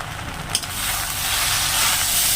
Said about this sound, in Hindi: अब दोनों को डाल करके अच्छी तरह से मिक्स करेंगे।